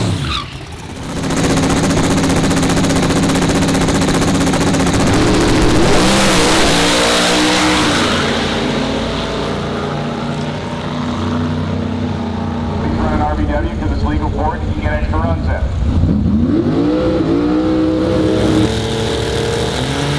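A drag racing truck at a qualifying event roars hard as it launches and accelerates down the track, a loud sustained engine blast with rising pitch sweeps. Other racing engines join later and voices are faintly present.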